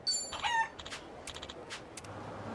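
In the video game Like a Dragon: Infinite Wealth, a chicken lets out a brief burst of squawking, then a few softer scattered clucks, all fairly faint.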